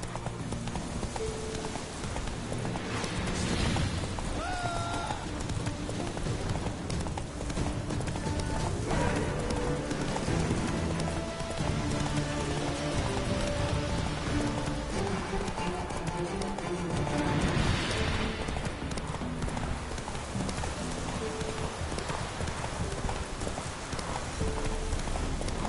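Roach the horse gallops in a video game, with steady rapid clip-clop hoofbeats running throughout over a busy game soundtrack, and a brief whinny partway through.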